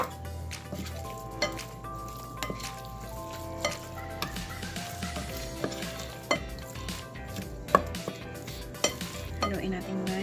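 A cassava cake mixture with evaporated milk being stirred in a bowl, soft wet sloshing and squishing with light clinks of utensil against the bowl, close and steady, no voices.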